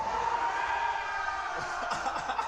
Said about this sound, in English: They're all cheering.